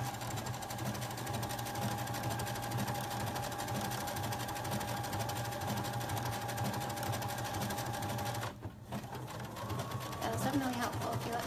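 Sewing machine running a decorative stitch on a garment, a steady continuous motor whir with rapid needle chatter that stops briefly near the end, then resumes faintly.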